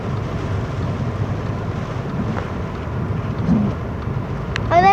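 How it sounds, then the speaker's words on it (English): Heavy rain pours steadily during a thunderstorm, a dense, even roar with wind buffeting the microphone and no distinct thunderclap. A brief high, chirping sound rises at the very end. "It's raining hard again."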